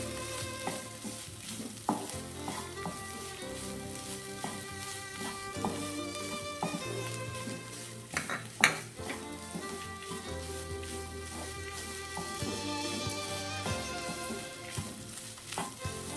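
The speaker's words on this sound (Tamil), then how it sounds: "தேங்காய் ஆட் பண்ணி நல்லா மிக்ஸ் பண்ணி விட்டுக்கோங்க" Ivy gourd stir-fry with grated coconut mixed in a pan on the stove, continuous frying sizzle with repeated scraping and tossing scrapes, a thump near the middle, and steady background music.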